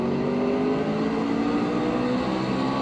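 Race cars accelerating at a restart at Las Vegas Motor Speedway, a steady loud engine drone that holds throughout with no break.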